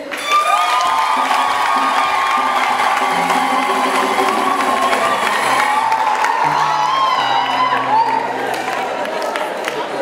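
A large church congregation at a pastoral visit cheers, whoops and claps continuously, a dense roar of voices and applause with shouts rising over it throughout.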